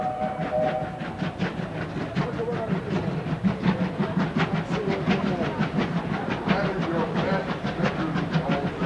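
A steam locomotive train rolls past with a rhythmic clickety-clack of wheels over rails, a steady rumbling roar and hissing throughout, fairly close.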